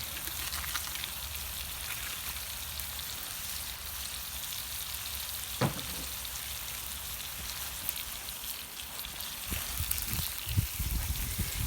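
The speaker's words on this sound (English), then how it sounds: "Now we got to get all that stirred up" Shrimp in hot sauce sizzle and crackle in a pan on a Member's Mark kettle grill, a steady rain-like frying hiss with occasional scraping knocks from stirring, fairly quiet throughout.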